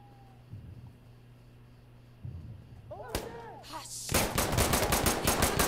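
Gunfire in a multiplayer tactical shooter video game: a sharp shot around the three-second mark, then a dense burst of rapid automatic fire that grows louder toward the end, with game sounds and quiet voice chat earlier.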